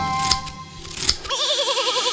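A cartoon sheep from a children's nursery song gives a wavering, vibrato bleat near the end, following sharp clicking and snipping sounds like shears cutting wool, all close and clear.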